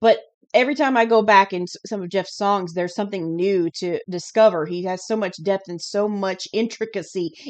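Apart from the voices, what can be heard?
No everyday noises stand out.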